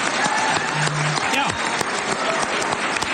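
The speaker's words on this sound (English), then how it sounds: "those people applauding at that public hearing" Dense applause from the crowd at a public hearing, loud and steady throughout, with a few louder claps standing out and some voices mixed in.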